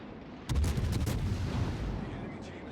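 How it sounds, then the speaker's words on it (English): Naval broadside from an enemy warship in World of Warships: a burst of heavy cannon fire beginning abruptly with a booming volley, several rapid reports blending into a rolling low rumble that slowly fades. "he starts giving us broadside."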